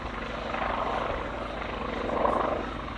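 A Polikarpov I-16 fighter flying at the Flying Legends airshow at Duxford, its radial engine a steady, distant droning roar that swells slightly toward the end, with no talk.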